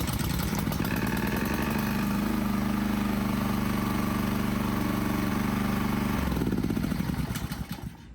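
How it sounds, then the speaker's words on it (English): A Honda GCV160 small engine with a freshly adjusted governor runs at a loud, steady drone, close by, then cuts off abruptly and winds down near the end. "if we start the engine now, it won't run away on us."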